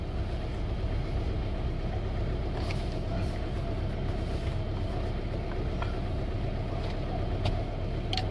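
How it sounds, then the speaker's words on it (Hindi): A Tata Indigo car engine running steadily, a close, constant low drone with a faint rattle and a few small clicks over it, and no talk. "हम गाड़ी चलाएंगे, कितनी चलाते हैं आपको वो भी दिखाएंगे"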